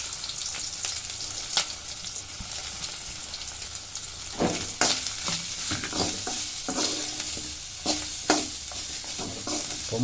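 Grated coconut stirred and sautéed in a pan for spinach rice, a steady sizzle running under repeated scraping strokes of a spoon across the pan bottom.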